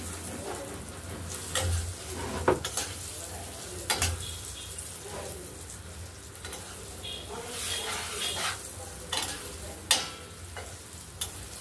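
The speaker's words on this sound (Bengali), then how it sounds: "এই যে গোবিন্দভোগের চালটা ভেজে নিচ্ছি" Gobindobhog rice being fried and stirred in a pan, a steady low sizzle under repeated scraping and clacking from the spatula, close by and moderately quiet, with no one talking.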